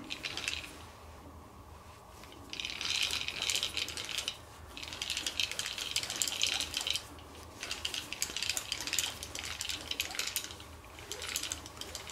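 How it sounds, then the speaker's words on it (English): A Knipex cutter works through a thick-walled bicycle tube, producing a close, steady ratcheting and grinding scrape in long passes separated by short pauses, with no talking. "we're going to try and cut it with the Knipex"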